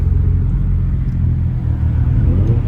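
A car's 1JZ engine running antilag rumbles loudly and steadily at close range at a car meet, with a deep, continuous low roar and slight fluctuations in intensity.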